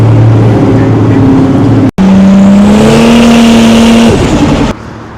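A big-turbo MK4 Toyota Supra accelerates hard at a cars and coffee meet, its engine note climbing steadily in a loud, close, sustained pull with a brief gear-change break, then cutting back to a lower drone.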